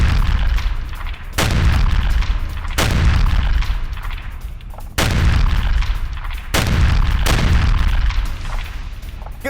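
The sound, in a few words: artillery fire and explosions in an attack video from Bakhmut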